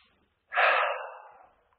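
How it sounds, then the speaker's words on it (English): A single deep inhalation, close and clear, swelling quickly and then tapering off over about a second with no talk. "Take a deep breath."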